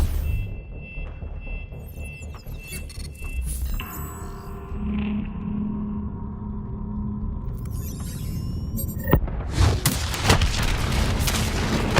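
A detonation in Call of Duty Black Ops 3 arrives as a loud, sudden broadband blast near the end, rolling into rumbling debris over a low droning game backdrop.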